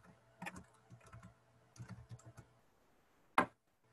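Keys tapped on a computer keyboard while entering an email address and password at a sign-in screen: two short bursts of quiet, close clicks, then a single sharper keystroke near the end, with no talking.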